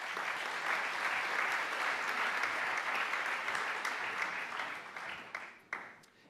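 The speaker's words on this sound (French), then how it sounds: "On peut les applaudir tous les trois." An audience applauds steadily, many hands clapping together, then the applause thins out and fades with a few last claps.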